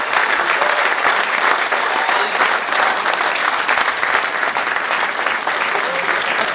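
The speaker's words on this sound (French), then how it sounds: "Je vous demande d'applaudir notre invité." Steady, dense applause from a gala audience, loud and sustained throughout with no pauses, filling the room evenly from start to finish.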